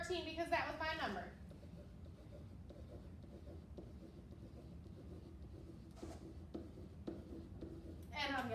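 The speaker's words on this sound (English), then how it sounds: "I'm going to erase it and I'm going to draw a picture." Faint scratching strokes of drawing a picture on paper run through a quiet stretch, with a person talking briefly at the start and end.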